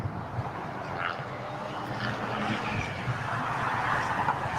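A Boeing 777-300ER arriving from Paris on runway 25 right at LAX, heard from a nearby hill, makes a broad, distant jet roar that slowly swells in loudness, mixed with wind.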